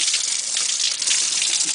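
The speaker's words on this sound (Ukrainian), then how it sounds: "І ось бачимо, водичка поступає." Warm water gushes steadily from a garden hose into a homemade solar-heated shower, a continuous close splashing rush with no voices.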